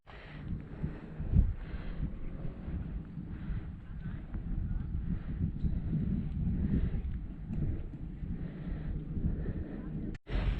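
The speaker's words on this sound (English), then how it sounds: "It's a really windy walk up here," Wind buffets the microphone on a mountain walk in the Dolomites, a continuous low rumble that swells and eases, with a sharp knock near the end.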